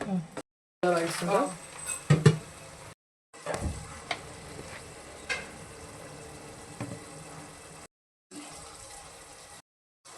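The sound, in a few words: stirring and frying tomato rice in a pan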